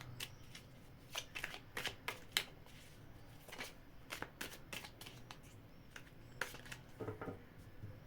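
Tarot cards being shuffled close up, a series of crisp riffling bursts with short pauses between them, no talking.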